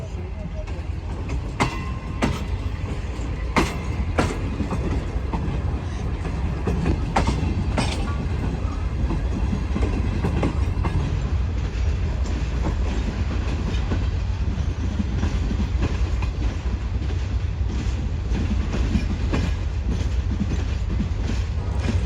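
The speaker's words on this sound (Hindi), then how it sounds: "तो भाई ट्रेन जा चुकी है" Shah Hussain Express passenger train on the Karachi to Lahore route rolling past close by, a loud, steady rumble with rhythmic wheel clatter and occasional sharper clanks that continue unbroken throughout.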